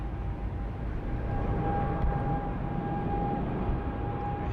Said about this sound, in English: Here goes Eva 777-300ER off to Taipei.